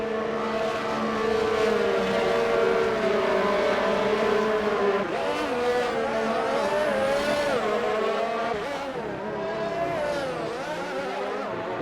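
A McLaren race car on soft tyres pulls out of the pit lane at a Canada round of a racing league, its engine a loud, close, sustained whine that rises and falls with gear changes and revving.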